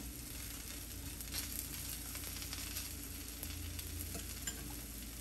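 Mango and carrot paratha frying in oil on a hot tawa, a steady close sizzle and crackle that holds even and unbroken throughout, fairly quiet with no voices.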